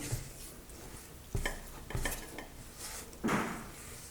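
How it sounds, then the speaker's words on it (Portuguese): Hand mixing flour into a simple homemade eggless, dairy-free bread dough in a bowl, with soft squishing and a few louder knocks against the bowl, close and without talk. "Lu, eu posso nessa parte colocar a mão na massa para misturar a farinha?"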